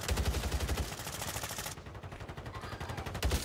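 Gunshots in Warzone, a rapid automatic burst that runs steadily for nearly two seconds, then a short pause and another quick burst, all fairly faint and distant-sounding.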